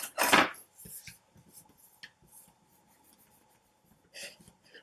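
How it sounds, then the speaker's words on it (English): Cardboard packaging around a Juvia's Place Nubian makeup palette is pried and peeled in layers, opening with a loud close tearing rasp, then small scattered scrapes and taps, and another brief tear near the end. "we will basically be able to remove the layers of the packaging in order to get access to the pans"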